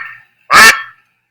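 In a video game, a single loud, nasal honking duck quack sounds once, brief and close, after a faint earlier call, then silence.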